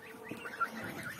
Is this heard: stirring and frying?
no